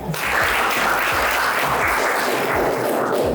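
Loud, dense applause from a crowd of students at an inter college, a continuous roar of many hands clapping close by, steady from start to finish with no voices.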